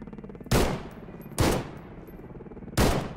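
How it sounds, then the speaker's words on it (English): Three loud, booming shotgun blasts firing armor-piercing slugs at crows from a rooftop in the S.T.A.L.K.E.R. GAMMA video game, spaced about a second apart, each with a short echoing tail over a quiet ambient background. "Let's get on the roof and shoot some crows down."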